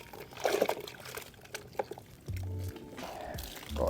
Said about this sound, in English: Dunk it into your rinse bucket.